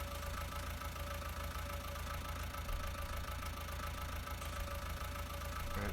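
A small Ford tractor engine in Farming Simulator 19 idling steadily, a continuous faint low chug with a light knocking texture and no variation across the stretch.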